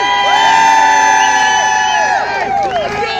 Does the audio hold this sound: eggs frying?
no